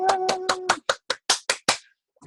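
A class of young children claps in unison, about eight sharp, evenly spaced claps, loud and close, with a little voice heard over the first few.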